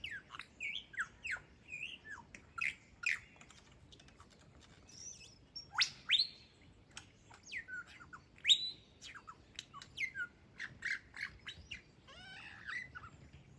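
A lyrebird sings in forest in the Dandenong Ranges along the 1000 Steps, a close, varied stream of loud whistles, rapid chirps and mimicked calls in irregular bursts over a low, rumbling background.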